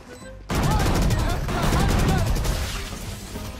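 Rapid gunfire bursts in the tactical shooter Valorant, a loud flurry of overlapping shots that begins abruptly and keeps rattling for a few seconds before tapering off.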